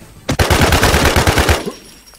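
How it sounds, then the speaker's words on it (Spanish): A rapid burst of video game gunfire, loud and close, fires a quick string of evenly spaced shots for about a second and a half before cutting off. "Y otro que te está disparando otro sniper."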